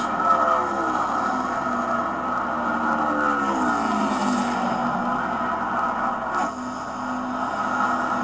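A NASCAR stock car at Indianapolis, the 2012 Brickyard 400, runs its final lap with a steady, loud engine drone that bends in pitch as it passes, continuous throughout with no talk.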